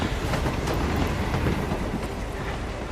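Uncoupled train cars rolling away along the tracks in the Hitman game's Carpathian Mountains level, a steady, dense rumble of rail noise with faint rhythmic clatter holding at an even level throughout.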